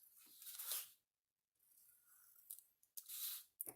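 Scissors snip through glossy magazine pages for collage fodder in a few close, crisp bursts with a brief pause between them; no one speaks.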